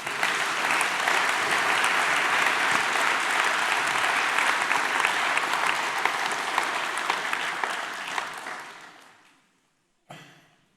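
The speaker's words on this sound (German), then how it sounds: "Gebt ihm noch einen Applaus." A church congregation applauds, with dense, steady clapping that fills the room and then fades out near the end, followed by a brief sound after a moment of silence.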